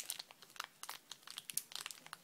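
Plastic toy packaging being worked with scissors: quiet, rapid crinkling and crackling snips in an irregular burst of small, close sounds, with no talking.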